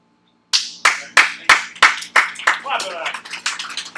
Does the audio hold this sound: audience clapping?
yes